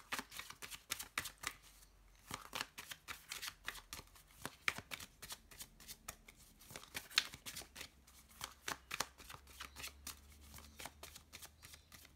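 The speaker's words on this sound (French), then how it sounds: "Je vais déjà faire une coupe, c'est parti." A deck of oracle cards being cut and shuffled at close range, a rapid run of crisp riffling card flutters and soft slaps repeating in bursts, quiet and with no talking.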